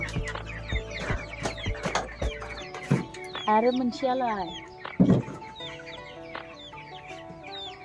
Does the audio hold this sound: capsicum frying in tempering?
no